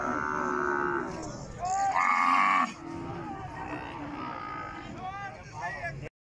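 Calves and cattle at a livestock market in Rajanpur, several loud nearby moos in sequence, with people talking in the background.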